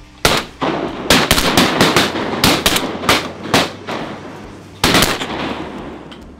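Shotgun blasts during a teal duck hunt: a rapid volley of about a dozen loud, close shots in quick, uneven succession, a short pause, then a final burst of shots.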